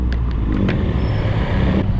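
Jammed road traffic in Bukittinggi, West Sumatra, heard from a motorcycle, carries a dense, continuous low engine rumble from nearby cars and bikes, loud and steady with no talking.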